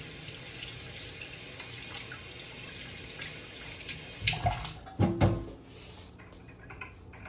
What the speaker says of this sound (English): let me do a quick wash of my hands since I have egg yolk on them